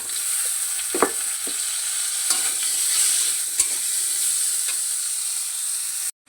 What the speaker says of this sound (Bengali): ওই একই তেলে আমি একটা শুকনো লঙ্কা, এলাচ আর জিরে ফোড়ন দিয়ে দেবো।